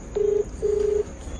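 A mobile phone call is being dialed. Two clear electronic tones sound in quiet surroundings: a short beep, then a longer one.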